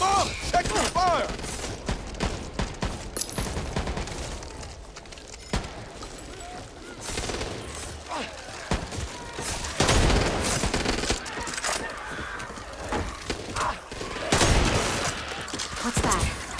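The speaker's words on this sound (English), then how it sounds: "Watch where you're shooting!" Gunfire in the video game Back 4 Blood, with bursts of shots and sharp cracks scattered across the clip amid chaotic combat noise and voices calling out.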